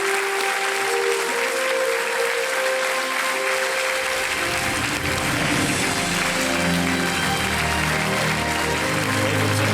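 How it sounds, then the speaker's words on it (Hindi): Studio audience on the Kaun Banega Crorepati game show applauds continuously to welcome a guest, the loud, dense clapping joined partway through by a swelling musical theme underneath. "देवी और सज्जनों, मिस्टर राजेश टचरिवर का तालियों के साथ अभिनंदन किया जाए"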